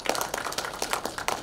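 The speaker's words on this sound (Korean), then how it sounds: "서로 인사를 못하셨기 때문에 상호 큰 박수로 인사를 대신하도록 하겠습니다" A crowd at a Korean political meeting claps together in greeting, a dense patter of many hands with rhythmic swells, fairly soft and continuous over the short span with no talk.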